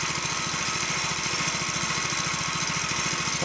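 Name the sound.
go-kart small engine running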